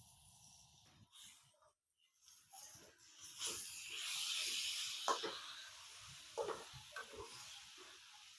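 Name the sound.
sliced tomatoes added to hot oil, sizzling in pan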